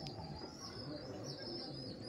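A Laldom pigeon coos softly at close range, a low steady murmur that continues for a couple of seconds with faint background noise.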